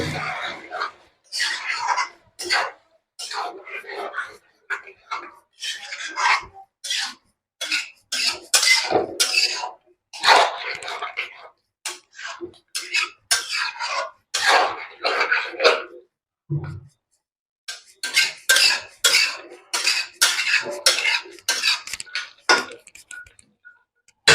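Paneer masala stirred in a pan with a spoon, making rapid, sharp scraping and clattering strokes in steady bursts, close up, with brief pauses between runs.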